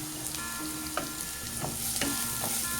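Onions with a pinch of salt sautéing in a pan for Kerala-style beef fry, giving a soft continuous sizzle with a few distinct spatula taps and scrapes spaced about a second apart, close and fairly quiet.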